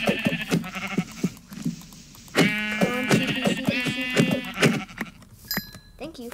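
Sheep in the Minecraft video game bleat several times, with wavering, harmonic-rich cries, some overlapping and fairly loud, separated by brief quieter gaps.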